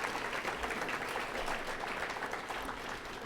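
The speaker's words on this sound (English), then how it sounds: "Another round of applause for our freshmen" A crowd applauds freshmen at a high school underclass awards ceremony, steady sustained clapping from many hands at a moderate distance, even in level throughout.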